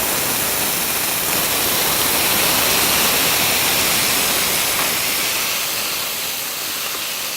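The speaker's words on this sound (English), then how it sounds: "I'm gonna add just a little bit of water." A little water is splashed into a pan of carrots sautéing in oil with turmeric and cumin, bursting into a loud, dense, steady hiss of steam and sizzle that slowly eases toward the end.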